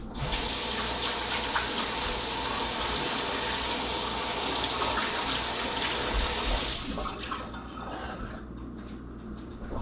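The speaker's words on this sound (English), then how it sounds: "Now I need to wash my hands since I gave him some sausage." Tap water runs steadily into a sink while hands are washed after handing out sausage pieces, a continuous close splashing hiss that eases off near the end.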